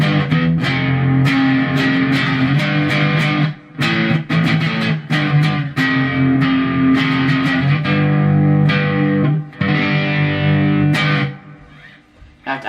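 Electric guitar played with heavy distortion, a run of loud strummed chords and power chords with steady sustained rhythm and brief pauses between phrases, alone with no talking.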